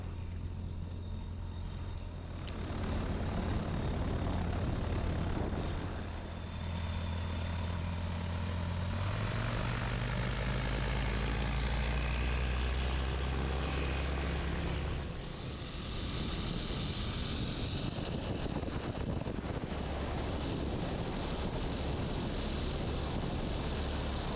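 Tecnam P96S Golf light aircraft with two on board, its engine and propeller droning loud and close, the pitch and tone shifting as power changes through the flight, with no talking.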